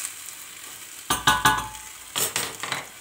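Green beans frying in a pot on low heat are stirred from the bottom up, giving several short scraping, clattering bursts over a faint steady sizzle.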